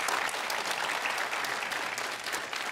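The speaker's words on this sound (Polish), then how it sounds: "ci ludzie klaszczą z zażenowania" Applause from a television studio audience at a talk show, a dense steady patter of many hands clapping close by, continuous and fairly loud, with no talk over it.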